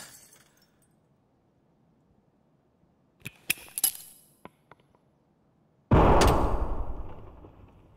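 A door in Escape from Tarkov opens and closes: sharp metallic clicks and a latch rattle midway, then a loud heavy slam that fades out, in otherwise quiet surroundings.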